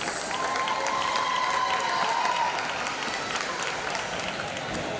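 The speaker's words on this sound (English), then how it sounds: "let's give a round of applause to our junior seniors" Sustained applause from a crowd in a school gym, honoring junior and senior players at a Christian high school basketball game, steady and dense clapping throughout with faint cheering mixed in.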